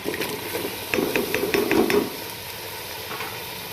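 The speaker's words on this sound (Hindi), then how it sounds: "अब हम इसमें सब्ज़ी ऐड करते हैं, जो हमने बैंगन को काट के रखा था।" Chopped eggplant going into a pan of sizzling yogurt masala: a soft frying hiss swells as a quick run of sharp spatula clicks and scrapes rattles against the pan, then the sizzle settles back to a low, steady level.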